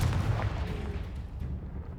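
Confringo explosion spell cast in the video game Hogwarts Legacy, heard as a continuous barrage of loud, booming blasts and rumbling detonations with no pauses.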